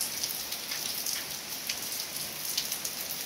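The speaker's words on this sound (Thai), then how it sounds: "เที่ยงฝนตกวันนี้ก็น่าจะทั้งวัน" Steady midday rainfall gives a constant, even hiss of drops pattering on surfaces nearby, unbroken and with no voices throughout.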